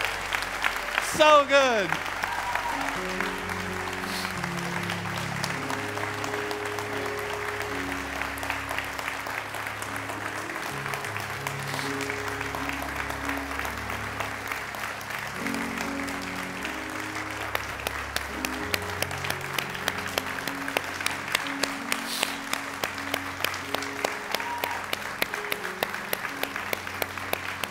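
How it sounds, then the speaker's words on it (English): Audience members at a talk clap long and steadily, a broad rhythmic wash that runs the whole time under background music, with someone briefly speaking. "I can blame you all for clapping so long"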